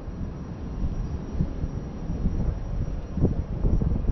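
An aeroplane takes off at Cape Town International Airport, a broad, steady engine roar building slightly, heard from a distance with some wind noise.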